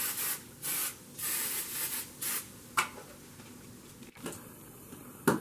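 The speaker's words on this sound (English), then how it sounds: "Go ahead and hit with some spray," Canola oil cooking spray hisses onto a waffle maker in several short bursts, close and fairly loud, followed by a few quieter clicks and handling sounds.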